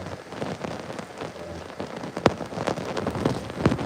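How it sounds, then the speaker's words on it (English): Light rain falls as a steady soft hiss close by, with a few louder drops tapping on a surface now and then. "And it's a real light rainfall."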